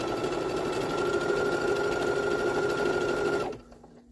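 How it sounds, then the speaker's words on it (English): Sewing machine stitching a rectangular Zorb cloth pad core onto the back of topper fabric, a loud steady rapid whir that runs continuously for several seconds and then stops abruptly. "Sew the core onto the backside of the topper."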